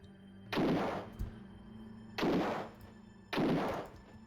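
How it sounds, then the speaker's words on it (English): Gunshots from the video game Alone in the Dark sound three times at even intervals, each a loud full-bodied blast that decays slowly, with no speech. "Now, get the gun. Shoot him."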